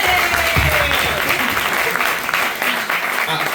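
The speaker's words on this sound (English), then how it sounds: "Let's give another round of applause." Loud, dense applause from an audience at a live Q&A event, sustained and close, with some voices mixed in.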